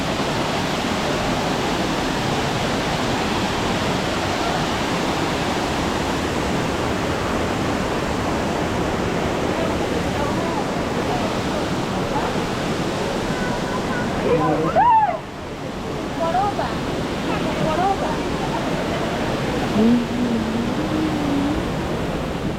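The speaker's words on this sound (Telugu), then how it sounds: "ఎలిఫెంట్ వాటర్ ఫాల్ చూడడం కంప్లీట్ అయింది." Steady, loud rush of Elephant Falls, a waterfall in Shillong, Meghalaya, fills the scene throughout, with faint voices and brief sounds breaking in midway.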